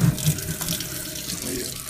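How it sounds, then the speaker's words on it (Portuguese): Tap water pours steadily into a bowl holding 40 grams of oats for chocolate oatmeal, a continuous close splashing rush with no voices. "enche mais ou menos assim de água"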